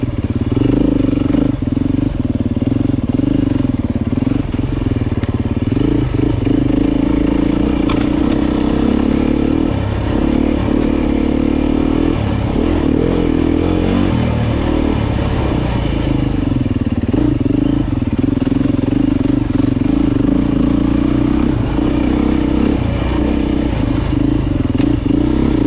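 A Beta dirt bike engine running continuously during a ride, a loud, close, steady engine drone with clattering and scraping from the bike and terrain throughout.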